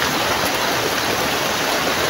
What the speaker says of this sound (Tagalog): Tingnan mo. Ulan.